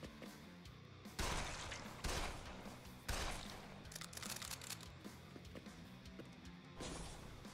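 Combat pistol shots from the video game Jupiter Hell sound faintly as a few separated, punchy bursts over low background game noise, each followed by a brief crunchy tail.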